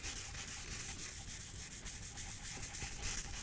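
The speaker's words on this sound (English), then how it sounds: "I'm going to rub it over my design." A wet sponge rubs leather stain across a tooled leather archery arm guard, producing a soft, continuous scrubbing swish with gentle back-and-forth strokes, close and quiet, no voices.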